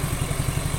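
A Suzuki Nex II scooter engine idles after a half-hour warm-up, running steadily with an even, low, rapid pulsing throb, close and continuous.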